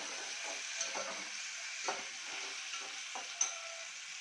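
Tomatoes frying in a pan with browned onion for a home-style chicken dish, giving a steady soft sizzle with a few stirring scrapes of a spoon, close and moderately quiet, with no talking.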